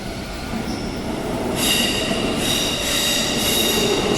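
A Perth suburban train arrives at a platform on a curve, its rumbling wheels giving off high, piercing squeals that rise and pulse over the steady rolling noise, loud and close.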